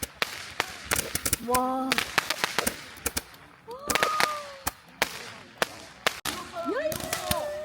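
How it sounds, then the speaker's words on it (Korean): Firecrackers and fireworks bursting at night on Minmeoru Beach, a rapid scatter of sharp cracks and pops with whistling rockets rising and falling, while people exclaim and talk nearby. "폭죽이 이렇게 멋있지?"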